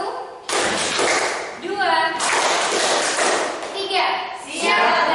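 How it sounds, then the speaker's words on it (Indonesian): A classroom group claps hands in short counted bursts, answering an adult teacher's spoken count, with children chanting in between; the claps are loud and close. "Tepuk tangan lagi."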